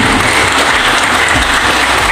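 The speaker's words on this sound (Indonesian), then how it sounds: "Aplaus untuk kita semua." A hall full of people applauds at a civil engineering faculty inauguration and anniversary ceremony, a dense, loud, continuous burst of clapping with no talking.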